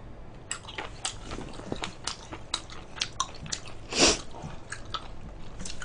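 Close, wet chewing and biting of grilled pork belly wrapped in perilla leaf, a steady run of crunchy, squishy bites with one louder crunch near the end, no talking.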